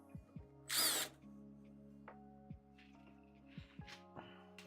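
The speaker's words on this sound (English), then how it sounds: "So I got my little drill bit here." A small drill bit bores into a Skywalker V1 vaporizer with one brief, loud, whining burst close by, followed by faint clicks and quiet handling of the device.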